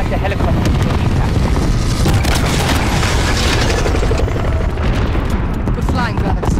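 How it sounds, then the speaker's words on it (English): A helicopter crash explosion in Call of Duty: Modern Warfare on PS5: a loud, sustained roaring rumble of blast and wind-like noise lasting several seconds, with voices talking over it. "Crash into the chopper"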